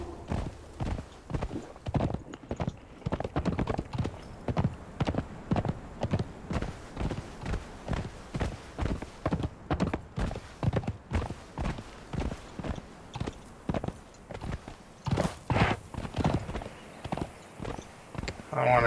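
A horse in the video game Conan Exiles clip-clops along at a steady walking rhythm, close and distinct, hoof strikes repeating evenly for the whole stretch.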